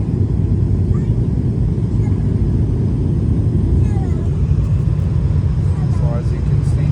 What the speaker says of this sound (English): right now we are landing at Tampa International Airport. And we are in a airbus a220 JetBlue